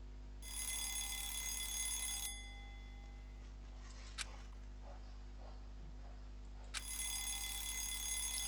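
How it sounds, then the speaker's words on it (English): Phone ringing in the Danganronpa Lapse video game: a bright electronic trill that rings in a long burst, pauses, then starts again, over a steady low game hum. "Oh, there's a phone ring."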